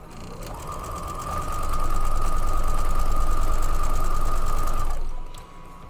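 Sewing machine stitching rows of batik fabric triangles, a fast steady mechanical whirring that speeds up and runs continuously for a few seconds before stopping, with no talk.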